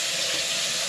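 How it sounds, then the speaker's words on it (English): Tap water runs steadily into a sink to rinse a removable part of an Ozito PXC 18v cordless coffee machine, a continuous close hiss and splash with no voices. "I think I'll just take that out of there and give that a rinse"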